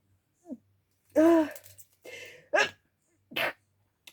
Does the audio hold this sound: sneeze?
yes